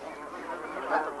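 Geese honk continuously in a banding pen, a dense overlapping chorus of calls at steady loudness with a slightly louder call near the end.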